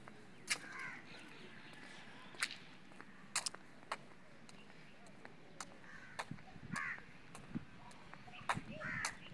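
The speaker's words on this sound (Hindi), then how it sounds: "ठंड से ना ये कौवे यहाँ पे दाना खा रहे हैं।" Crows cawing outdoors in a park while feeding on scattered grain on a cold day, harsh calls repeating at irregular intervals near and far, with soft pecking and footstep-like taps between them.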